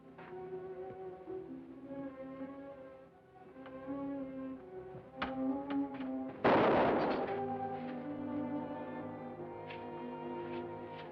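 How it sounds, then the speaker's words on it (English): A gunshot in an old mystery film, one sharp crack that swells into a loud, rumbling boom, heard over a sustained orchestral music score that continues throughout. "You hear that shot?"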